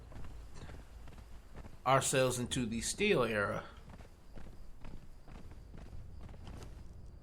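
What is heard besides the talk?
horse hooves while riding in video game Conan Exiles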